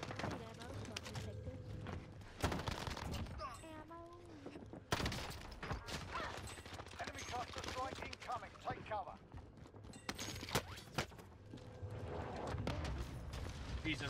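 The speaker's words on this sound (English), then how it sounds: "Why are you shooting?" Bursts of automatic gunfire from Call of Duty Vanguard Warzone on Rebirth Island, with C58 rifle shots, rapid volleys stopping and restarting, while a player talks over the shooting.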